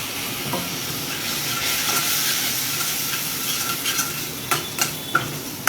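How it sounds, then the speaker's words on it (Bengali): Masala for chana dal hisses and sizzles loudly as water is poured into the hot pan, followed by stirring with a few sharp clinks of a utensil against the pot near the end. "জল দিচ্ছি।"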